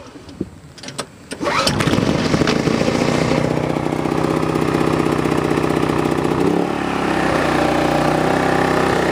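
A Sportsman GEN3500i inverter generator, set on top of a unit in a tightly enclosed area, cold-starts after a few rattling pull-cord sounds, then settles into a loud, steady running drone with a brief dip near the end.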